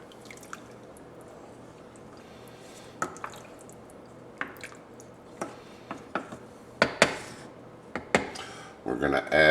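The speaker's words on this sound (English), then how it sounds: "Give this another stir." A pan of Cajun crawfish fricassee being stirred, giving soft wet squelches and clicks of the spoon against a slightly small pan; scattered scrapes grow busier and louder toward the end over a quiet background.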